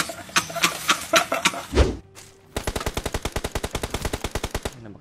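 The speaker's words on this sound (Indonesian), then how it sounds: "Ini nembak siapa lu?" Automatic gunfire in the battle-royale game PUBG: a short jumble of shots, a brief pause, then a fast, steady run of about two dozen loud evenly spaced rounds fired alone.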